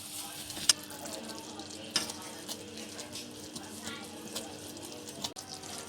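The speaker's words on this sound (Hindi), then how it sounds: "अब इसको हम साथ साथ चम्मच चलाते जाएंगे।" Spoon stirring homemade chocolate sauce made with water as it cooks in a pan, soft scraping and gentle bubbling with a few light clinks, fairly quiet and close.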